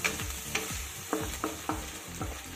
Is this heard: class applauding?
no